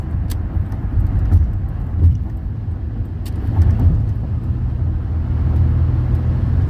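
A used car on a highway test drive at about 80 mph makes a steady cabin rumble of engine and road noise, constant and fairly loud, with light creaks and ticks over it and no voices.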